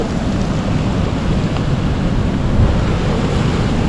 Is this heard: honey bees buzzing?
no